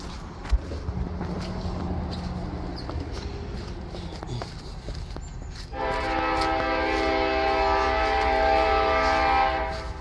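A westbound freight train's horn sounds loud and sustained from about the six-second mark, with steady rail rumble underneath and no talking.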